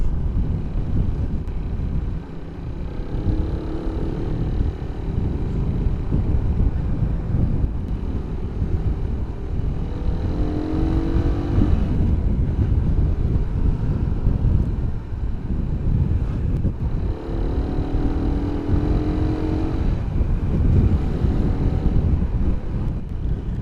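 A Suzuki Raider 150 motorcycle rides steadily with a continuous engine drone under heavy wind buffeting, and rising whine sweeps mark the upshift into third gear, close and loud throughout.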